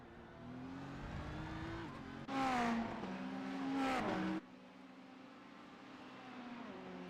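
A GT3 race car in a racing video game revs hard, its engine note climbing and wavering in a loud burst that rises, holds, then drops back to a lower drone.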